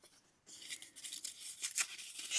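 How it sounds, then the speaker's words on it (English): Bits of paper being shuffled and handled while assembling a rustic vintage botanical collage zine, close and soft, with crisp rustling and papery tears in irregular bursts. "shuffling bits of paper around"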